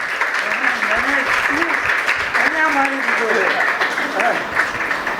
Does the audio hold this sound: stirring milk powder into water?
no